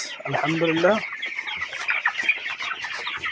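A hen gives a short burst of clucking up close, followed by softer scattered clucks and chicken noises on a poultry farm.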